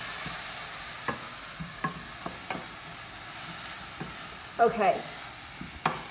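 Vegetables sizzle in a hot pan while a spoon stirs them, with a low frying hiss under a few sharp scrapes and clacks spaced across the stretch. One short spoken word comes through near the end.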